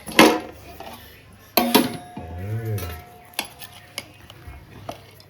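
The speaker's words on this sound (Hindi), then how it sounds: "फाइनली बिरयानी रेडी हो गई, प्लेट्स में डाल रही हैं" Biryani served from a pot onto plates with clattering metal spoons and dish clinks, a few sharp scrapes and knocks, and a brief low rumbling swirl in the middle; close and fairly quiet.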